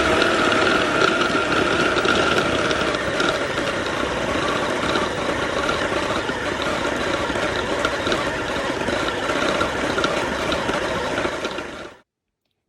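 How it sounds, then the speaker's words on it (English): An electric stand mixer kneads fruit loaf dough with a steady, loud mechanical whir and rhythmic grinding that runs continuously, then cuts off abruptly at the end. "All my ingredients are in my mixer and I'm just going to mix all of this"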